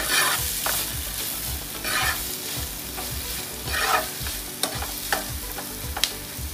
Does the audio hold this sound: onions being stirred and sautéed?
yes